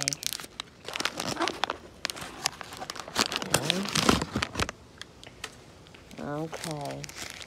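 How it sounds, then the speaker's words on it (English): Crinkling and tearing of a bag being ripped open close up, with scattered rustling bursts under a woman's speech and a brief vocal sound near the end. "I'm just ripping the bag."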